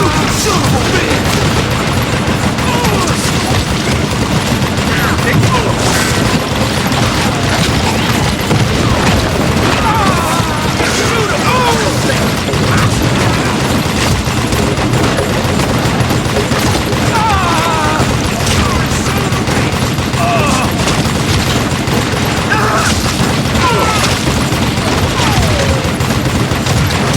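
Heavy gunfire in a chaotic shootout, rapid overlapping shots and bangs crackling nonstop under shouting voices at constant high loudness.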